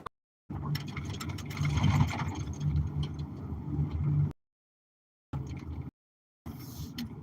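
Bus engine idling while stopped at a railroad crossing, a medium-pitched rumble heard from outside that holds for several seconds and then cuts out, returning in brief bursts between gaps of silence.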